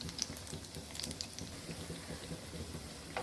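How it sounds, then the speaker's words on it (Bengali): Banana fritters fry in oil in a pan over a low flame, making a faint, steady crackle and sizzle with scattered small pops throughout. "চুলা লো ফ্লেমে রেখে একটা গোল্ডেন ব্রাউন কালার করে বড়াগুলো ভেজে নিব।"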